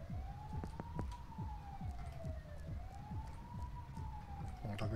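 A police car siren wails in slow rising and falling sweeps in the early GTA game, moderately distant and steady over a low rumbling engine bed.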